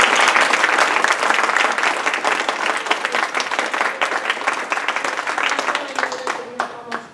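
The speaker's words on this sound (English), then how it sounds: "let's please give a big round of applause to our candidates" An audience gives warm applause to candidates at a community gathering, with full, close clapping that stays steady for several seconds and then thins out and trails off toward the end.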